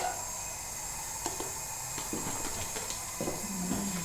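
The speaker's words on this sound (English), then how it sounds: "So then we firstly fry the garlic." Garlic fries in oil in a pan with a steady, soft sizzling hiss. A few faint clicks and small knocks are heard near the cooking.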